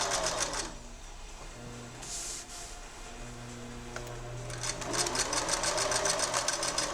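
A sewing machine stitches a pillowcase, with rapid rhythmic needle clatter in short bursts, pausing in between, then running steadily again near the end, close and fairly quiet.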